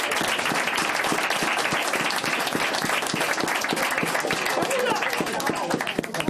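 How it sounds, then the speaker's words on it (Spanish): Loud, dense applause from a crowd at a village gathering in San Martín de Ondes, Belmonte, Asturias, with steady rapid clapping throughout and voices mixed in. "Yo daría un aplauso para la Cuca."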